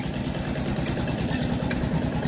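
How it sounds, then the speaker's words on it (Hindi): A village jaggery mill (kolhu) engine runs steadily at close range, a loud, continuous low throb with an even idling rhythm that fills the whole stretch, no voice over it. "इंजन चल रहा, इसकी आवाज बहुत ज्यादा आ रही,"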